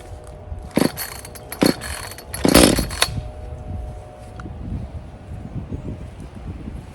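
A petrol backpack blower being started: a few sharp pull-cord rasps, then a low, uneven engine putter that stays running at a moderate level, close by outdoors.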